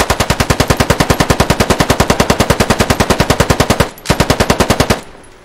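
An RPK machine gun fires in the video game Squad, a long rapid sustained burst of evenly spaced loud shots, a brief break, then a shorter burst that stops, with no talking.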